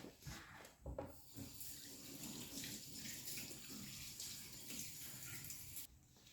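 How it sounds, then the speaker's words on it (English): Tap water runs into a sink while hands are washed, a faint steady splashing stream that cuts off near the end. "So let's go wash our hands."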